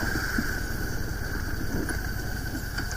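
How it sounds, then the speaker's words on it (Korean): A large Harley-Davidson motorcycle with its stock muffler runs at a steady idle, a continuous low rumble with a faint whine above it, fairly quiet and unchanging throughout. "할리는 대형 오토바이라서 순정 소음기에서 나는 엔진 소리가 엄청 크답니다"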